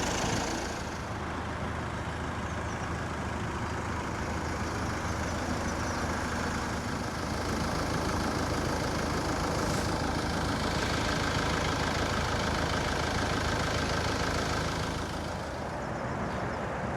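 A serviced van's engine idles steadily and evenly, a constant close-up rumble with no speech, holding level for the whole stretch.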